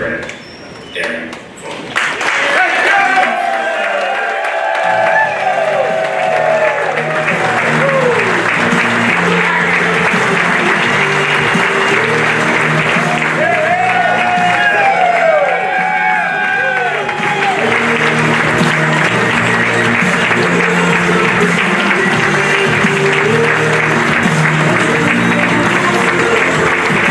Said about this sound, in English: Please give a huge round of applause to our dear friend, Aaron.